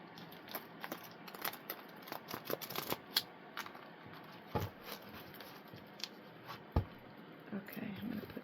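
A deck of cards is shuffled several times close up, quiet rapid riffling patters and taps in short bursts, faint and intimate.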